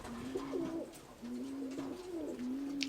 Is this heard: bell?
no